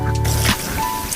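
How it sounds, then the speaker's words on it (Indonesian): Ecoprint fabric is rinsed under running tap water, giving a short wet squish and drip of soaked cloth with a steady low hum in the background. "Nah, bilas di air mengalir ya, kayak gini."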